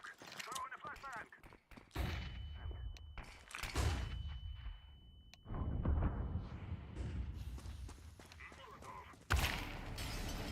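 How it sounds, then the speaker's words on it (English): A flashbang and gunfire in a first-person shooter video game, with sharp bursts and booming blasts between stretches of excited talk from a player. "I'm throwing smoke. Throwing a flashbang."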